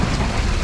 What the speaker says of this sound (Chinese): 大风吹着这个冰雹